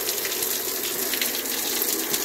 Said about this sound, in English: If I turn that on and run, then you can see the water comes out of the ceiling rose there.